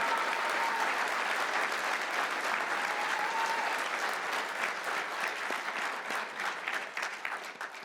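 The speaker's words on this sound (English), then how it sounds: "Round of applause for Mrs. Kane, right on stage." A keynote audience at a marketing technology conference gives sustained applause for a guest called on stage, a dense, even wash of many hands that tapers slightly toward the end.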